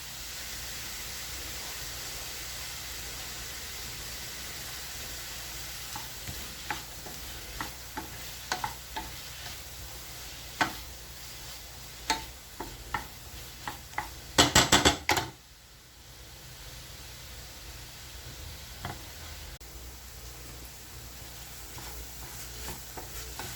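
Garlic sizzles in a hot pan for meatballs in tomato sauce, a steady frying hiss broken by sharp clinks and scrapes of a utensil stirring against the pan, with a louder clatter midway before the sizzle settles again.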